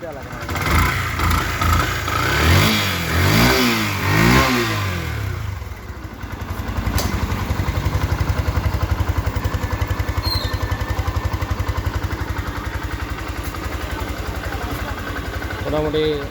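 A Yamaha FZS V2 motorcycle engine revs in several rising and falling bursts over the first six seconds, then settles into a steady, close idle. A person talks over the revving.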